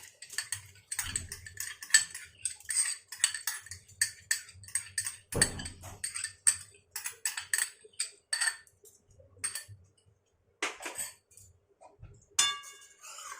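A spoon stirs marinated rice in boiling milk in a wok for mango kheer, giving quick, light clinks and scrapes against the metal in irregular bursts with brief pauses, close but soft.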